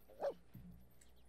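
A dog in The Sims 4 video game gives a short, faint yip followed by a softer whimpering whine, heard alone against a quiet background.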